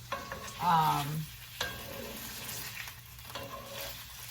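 Beef steak coated in oil cooking in a pan for keto beef and veggie bowls, a steady sizzle and frying hiss with stirring and a couple of sharp utensil scrapes, close and fairly loud.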